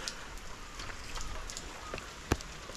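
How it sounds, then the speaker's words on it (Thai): Steady rain falling over several days, hissing continuously with scattered drop impacts and one sharper close tap, some drops hitting a camera; no voices. "ฝนยังไม่หยุดตกเลยนะยังตกอยู่เหมือนเดิม"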